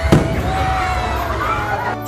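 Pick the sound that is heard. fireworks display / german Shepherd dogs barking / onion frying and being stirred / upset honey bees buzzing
fireworks display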